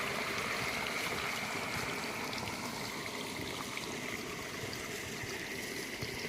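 Water poured into a drum of cattle feed, a continuous rushing, gurgling stream heard up close at an even level from start to finish.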